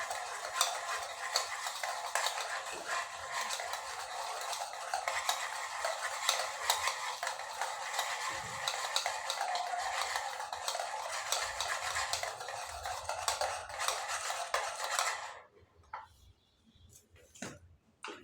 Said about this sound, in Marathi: हे दही आपल्याला असं फेटून घ्यायचं आहे छान